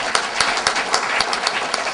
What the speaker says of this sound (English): Let's give a round of applause to Peter Bailey.